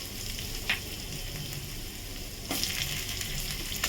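Steady oil sizzle and frying as chicken pieces go into a pan of fried garlic, with a couple of sharp crackles and a louder burst of sizzle partway through; no voices.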